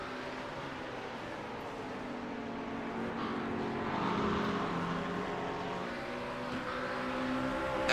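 Engines of McLaren GT3 race cars battling side by side at Fuji drone at a distance, their tones rising and falling together as they run wheel to wheel, with a faint swell partway through.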